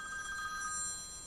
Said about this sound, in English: And apologies, that's my phone.